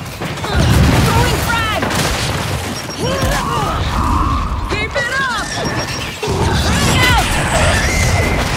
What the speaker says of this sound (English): Throwing frag! Frag out!